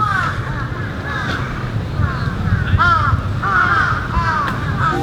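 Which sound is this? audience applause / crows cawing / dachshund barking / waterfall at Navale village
crows cawing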